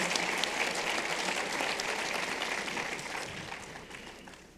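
Sustained audience applause at a Bible question panel, a thick, even wash of clapping that holds steady and slowly fades over a few seconds, with no clear talk on top.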